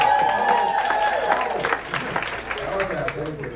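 Audience applause and crowd noise rise at a comedy show, a rough swell of clapping mixed with voices that thins out over a few seconds.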